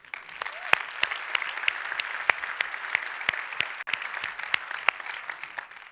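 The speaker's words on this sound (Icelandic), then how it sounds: "Mér finnst bara að klappa fyrir Hildi." Audience applause at a business conference speech, a steady wash of many hands clapping with sharp individual claps standing out, sustained and fairly distant.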